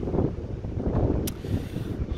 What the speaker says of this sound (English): Bit of a windy day out here today,